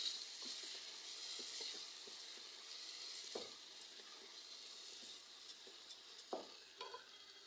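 Washed rice sautéing in a pan for sayadeya fish rice, a quiet steady sizzle broken by a few soft stirring scrapes and clicks, with no voices.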